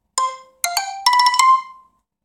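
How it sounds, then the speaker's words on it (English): A phone alarm goes off in a quiet room, sounding three bright electronic melodic bursts, the last a rapid run of tones that fades out, with no talking. "another alarm set off."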